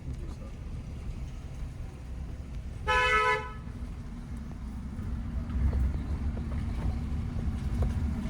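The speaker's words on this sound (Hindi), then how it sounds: "लॉन्ग हॉर्न दो आंटी को" A single short car horn toot sounds over steady traffic and engine rumble, fairly close by.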